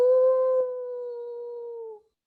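A human voice imitates wolves howling: one long, steady, sustained howl lasting about two seconds. It is clear and close, heard alone, and fades out at the end.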